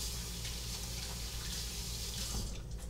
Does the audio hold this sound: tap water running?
yes